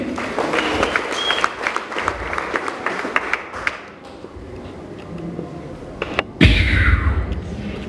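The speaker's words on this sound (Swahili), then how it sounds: "Pigia Yesu makofi." Church congregation applauding during a sermon, dense rapid clapping from many hands for several seconds, then a lull and a fresh loud burst of clapping near the end.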